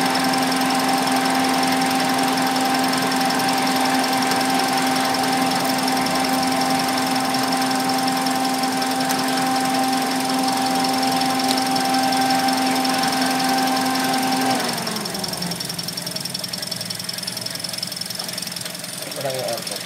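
An engine runs steadily while its fuel injection is checked, a droning hum with a strong steady tone and a faint knocking rattle, until the note abruptly drops and changes near the end; voices talk faintly over it.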